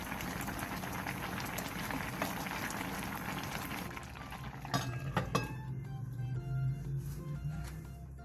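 Soup bubbling in a covered pot over medium-low heat, a steady soft churning simmer that continues throughout, joined by a few light clinks partway through.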